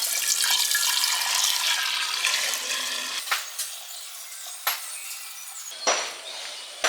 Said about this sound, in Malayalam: ആദ്യത്തെ ബേസിലെ വൈൻ നമുക്ക് ഇതിനകത്തേക്ക് ഒഴിക്കാം കേട്ടോ